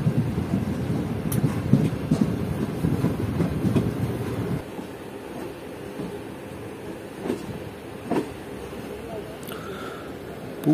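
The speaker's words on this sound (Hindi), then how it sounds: "स्पीड बढ़ना शुरू हो गई है ट्रेन की" A Karachi Express train picking up speed rumbles along the rails, loud low-frequency rolling noise that drops away midway, leaving a quieter hum with a few faint clacks.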